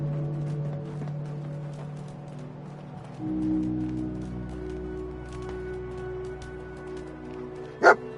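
Dog companion barking in a post-apocalyptic video game, with one sharp, loud yelp near the end over low ambient game background and music.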